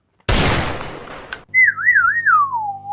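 A loud burst of rapid gunfire-like noise, a brief cracking pop, then a wavering whistle-like tone over low hum.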